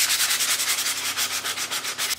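Sanding laser flash-burn marks off a wooden barrel-top sign, a steady abrasive rubbing in quick, even back-and-forth strokes, close and continuous with no voices.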